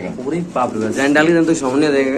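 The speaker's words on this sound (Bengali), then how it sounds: "কবুতর ডাকতেছে এটা কি" Close pigeon cooing, a few soft throaty coos rising and falling, with people talking nearby at the same time.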